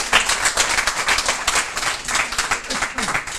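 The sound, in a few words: audience round of applause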